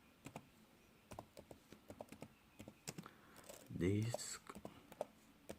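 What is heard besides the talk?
typing on a computer keyboard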